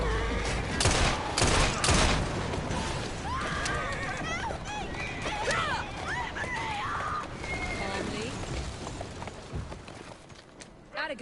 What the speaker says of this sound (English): Come on, Eve, fire the gun.